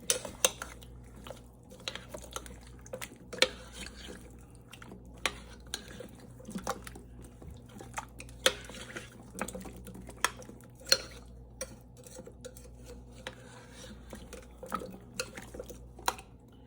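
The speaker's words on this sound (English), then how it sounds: "we're going to stir this together" A spoon stirs ingredients together in a slow cooker crock, with irregular clinks and scrapes against the pot over soft wet mixing, with no talk.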